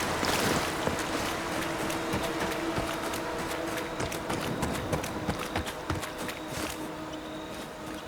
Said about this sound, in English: Gonna wade through this